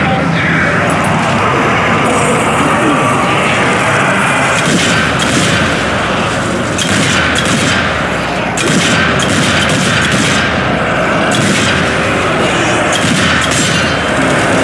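Explosive charges going off in the zombie shooter Zombie Army 4: Dead War, a sustained barrage of loud booms and crashing blasts with rumbling debris, dense and continuous throughout.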